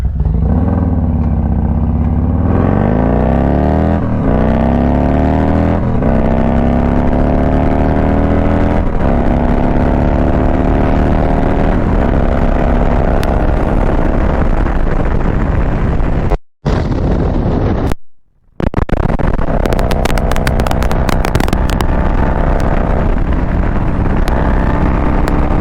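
A Harley-Davidson Road Glide ridden on the road, its V-twin engine droning loud and close as the revs climb and shift through gears, with wind rush, a brief dropout, then the engine returning with crackling pops.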